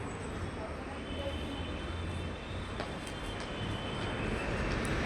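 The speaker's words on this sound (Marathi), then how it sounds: "तो गाईज आता ट्रेन पण आली आहे" A train pulls into a busy railway station with a steady low rumble and faint metallic squeals, while voices murmur in the background.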